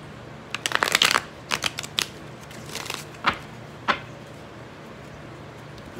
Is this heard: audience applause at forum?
no